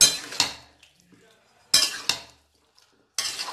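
A spoon scrapes and clanks against a pot while spices are stirred into chicken for handi chicken, three separate bursts of stirring with brief pauses between them, close and fairly loud.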